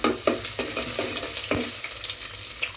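Chopped onions for okra curry fry in a pan with a steady sizzle, broken up by several sharp scraping stirs that come at a slow, uneven rhythm. The sound is close and stands alone, with no voices.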